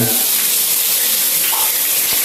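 Dirty water gushes steadily from a tap on the Manila Water supply, a loud continuous rushing hiss that never pauses.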